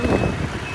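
Traffic rumbles nearby, with a steady high reversing beep sounding from a truck over the engine noise.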